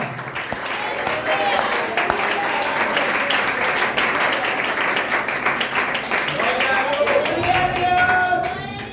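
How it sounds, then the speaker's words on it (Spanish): A church congregation claps hard to praise God during a Spanish-language morning service. The applause is loud and sustained, with a speaker's voice carrying over the crowd throughout. "Dale fuerte el aplauso a Dios en esta mañana."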